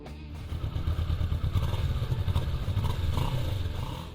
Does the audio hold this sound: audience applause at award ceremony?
no